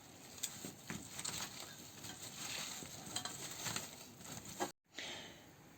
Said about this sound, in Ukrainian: Яблуками ми порізали і перемішуємо з корицею.